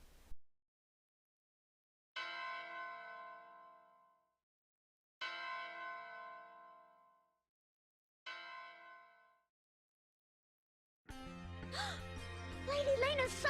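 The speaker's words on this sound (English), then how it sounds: "Lady Layna's summoning bell!" An ornate summoning bell in the video game Soul Nomad & the World Eaters rings three separate times, each clear metallic strike decaying slowly into silence, followed by the start of game music.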